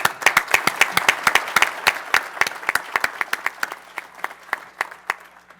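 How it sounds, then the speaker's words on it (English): Audience applause for newly sworn-in elected officials at a county board of supervisors meeting: a small crowd's distinct, sharp claps, close and dry, thinning out toward the end. "so maybe a round of applause for them."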